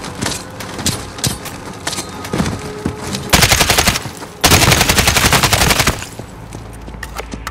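Bursts of automatic gunfire from a shootout in the shooter game Call of Duty: Modern Warfare, with scattered shots first, then two loud sustained volleys in the middle before they fade to sparse pops.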